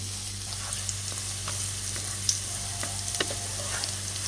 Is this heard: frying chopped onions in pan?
yes